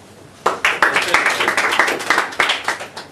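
An audience at a talk on jobs versus business breaks into a round of applause after a brief quiet, a loud, sudden burst of many hands clapping that swells and pulses unevenly until the end.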